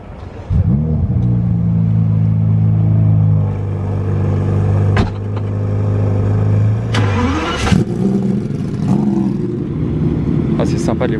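Powerful supercar engines crank to life and rev loudly nearby in Monaco, then roar and pull away one after another, with people talking over the noise.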